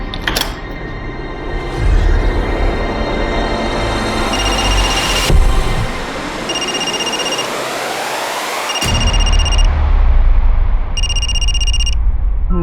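A mobile phone rings loudly nearby, a repeating electronic ringtone in short bursts that continues steadily with no one answering.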